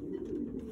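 A pigeon gives a short, soft coo, low and close, heard alone with no talk over it.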